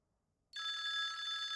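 A telephone bell rings loudly and steadily after a brief silence, a bright continuous electronic trill in a quiet room with no talking.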